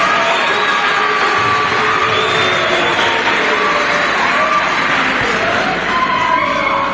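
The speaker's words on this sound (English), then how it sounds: "Clap for this professor." A large convocation audience erupts in sustained cheering, whooping and shouting for a professor, a dense, loud crowd roar that holds steady throughout.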